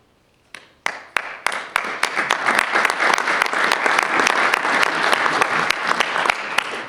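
A large audience at a talk at HEC Paris breaks into applause that swells quickly and holds steady, dense clapping with a few sharp individual claps standing out.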